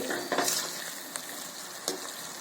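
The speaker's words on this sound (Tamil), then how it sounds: "இப்போ நல்லா சர்க்கரை நல்லா கரைஞ்சி இப்போ நல்லா பாகு நல்லா கொதிச்சிட்டு இருக்கு." Sugar syrup for corn flour halwa boils in a pan, a quiet steady bubbling hiss broken by a few soft pops.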